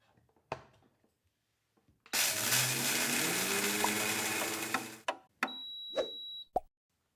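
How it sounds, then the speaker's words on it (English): A JTC OmniBlend TM800 commercial high-speed blender (3 horsepower, 38,000 rpm) grinds coffee beans in one loud, roaring burst of about three seconds. Scattered clicks and knocks come before it, and a short steady tone and a thud follow. "The OmniBlend can grind coffee beans."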